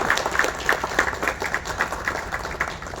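Dense round of applause from a television show audience, steady and fairly close, with individual claps standing out throughout.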